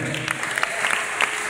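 A church congregation applauds in steady clapping, with a few sharper individual claps standing out and faint voices underneath.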